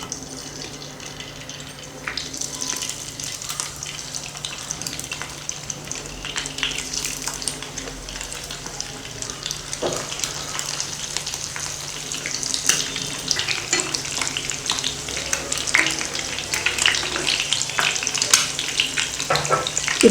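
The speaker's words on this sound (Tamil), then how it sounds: "எண்ணெய் காஞ்சதுமே முட்டையை வறுத்துக்கலாம்" Eggs frying in hot oil for a green egg fry, a steady broadband sizzle that runs throughout and grows slightly louder, with occasional crackles and pops and no voices.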